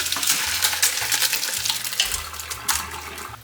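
Boiled spinach being drained, water pouring and splashing steadily into a sink for several seconds with no talking over it.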